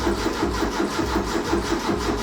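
Ford Fiesta Mk2 Ghia petrol engine with a mechanical fuel pump cranking without catching, a loud, close, rhythmic churning of the starter that repeats evenly throughout.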